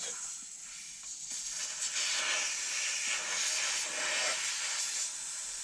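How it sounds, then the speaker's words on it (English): A steady, fairly faint hiss of air escaping under pressure from a tyre valve, continuous for several seconds with slight swells in intensity. "you can hear the air coming out."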